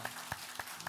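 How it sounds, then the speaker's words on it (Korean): A church congregation at a Sunday worship service claps after a bow of greeting, faint and sparse, a few distinct claps spaced evenly in a quiet hall. "경례 박수합니다."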